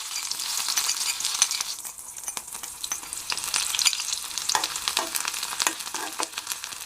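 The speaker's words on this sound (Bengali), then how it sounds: "এখন আমি পেঁয়াজ কুচি দিয়ে দিচ্ছি।" Chopped onions hit hot oil in a pan and fry with a loud, continuous sizzle, broken by frequent crackling pops and stirring scrapes up close.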